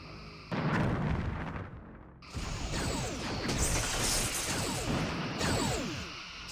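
Photon torpedo fire in the space combat game Star Trek Bridge Commander, with loud booming launches and mechanical clatter that keep going over a continuous roar of battle effects.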